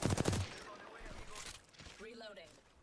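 Rapid bursts of automatic gunfire as a magazine is emptied in a competitive video game, loud at first, then fading under a voice talking.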